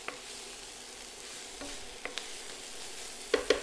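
Onions sizzling in a frying pan for a chicken or Quorn korma, a steady soft fry with a few sharp scraping stirs of a utensil near the end, close and moderately quiet, no voices.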